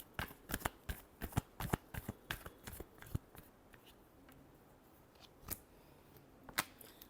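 Tarot cards are shuffled in a series of sharp, close riffling snaps and flutters, clustered at first and then thinning to a few isolated flicks.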